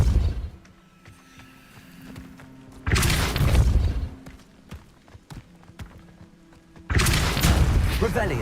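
Depulso spell cast in Hogwarts Legacy on PC, two loud forceful whooshing blasts a few seconds apart, close and booming, with quieter footsteps and movement between them.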